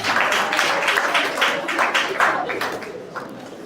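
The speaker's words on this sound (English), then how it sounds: "It's a round of applause for her." Audience applause at a school inter-house quiz and debate prize-giving for the third-place winner, a dense steady clapping lasting several seconds at close range, mixed with some voices.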